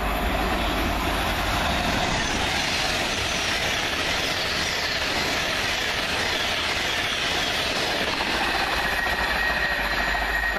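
A train passes close by, bound for London Euston near Lea Hall, a steady loud rumble of wheels and rail noise filling the whole stretch with no break.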